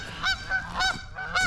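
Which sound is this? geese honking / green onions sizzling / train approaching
geese honking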